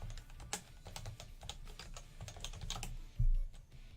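Keys clack in a quick, uneven run of typing on a computer keyboard, close and fairly quiet, with one heavier thump near the end.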